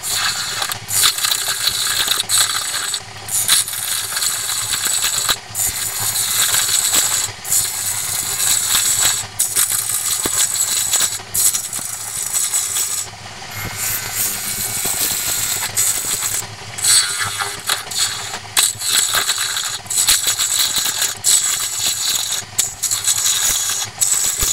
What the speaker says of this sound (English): easy wood tool hollower and start working on hollowing out the part that's in the bulge part of the bowl